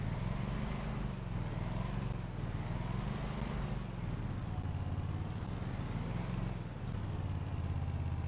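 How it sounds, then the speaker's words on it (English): A lawn mower engine drones steadily and close for the whole stretch, with a low, slightly wavering pitch and no talking over it. "get our mower."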